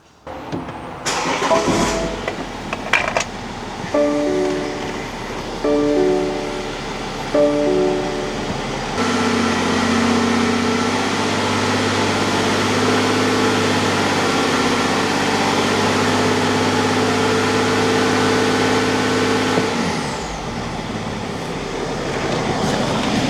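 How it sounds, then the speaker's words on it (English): A vehicle engine being serviced for an 8HP transmission fluid fill cranks over and starts, then holds a steady loud idle-to-2000 RPM drone for about ten seconds before easing off, heard close with no talk. "I rev it up to 2000 RPM and hold it there for 10 seconds"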